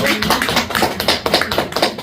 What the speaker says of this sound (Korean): 박수 나와야 되는 거 아니에요